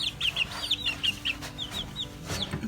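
Chickens cluck on a farm in quick, bright bursts, several birds close by over a faint background hum.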